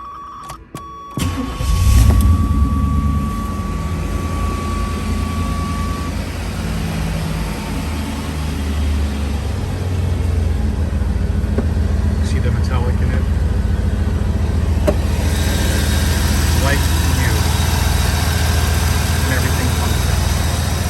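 A 1986 Chevrolet Camaro IROC Z/28 with 1,700 original miles cranks and fires up, then settles into a loud, steady idle with a deep low rumble, heard close by without talking.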